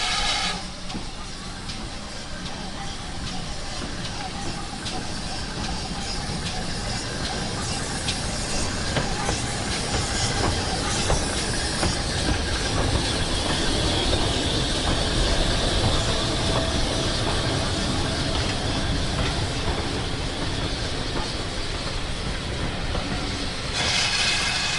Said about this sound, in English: was back out to see Elstoke Manor come in with a train longer than 3 coaches